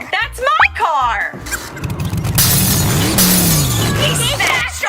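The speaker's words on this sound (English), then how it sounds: "He smashed our car!" A toy monster truck crashes into a toy car with a loud shattering smash, followed by rattling debris and excited children's voices shouting over the noise.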